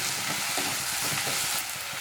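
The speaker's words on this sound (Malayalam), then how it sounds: "ഇനി ഇതിലേക്ക് ഞാൻ പച്ചമുളക് മുറിച്ചിട്ട് കൊടുക്കണം." Chopped green chilies fry in hot oil for a chicken curry, giving a dense, even sizzle with faint stirring scrapes, close and continuous, with no voices.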